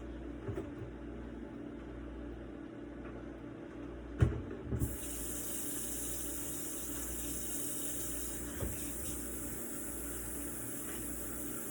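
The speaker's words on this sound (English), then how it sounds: "Let me wash my hands real quick." Water runs from a kitchen sink tap as hands are washed with dish soap, a steady close splashing stream with a couple of small knocks against the sink, with no talking.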